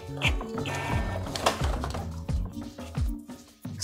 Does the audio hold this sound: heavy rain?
no